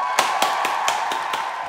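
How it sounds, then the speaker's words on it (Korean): Several hands clapping in a short round of applause at a small gathering, six sharp claps spaced evenly over a steady background hum, close and fairly loud, with no talk. "박수 한번 주세요."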